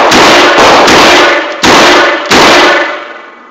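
Loud, close gunshots fired in a rapid string during speed and transition shooting training with a Rhino revolver, several sharp blasts with ringing decay overlapping one another, then a tail fading out at the end.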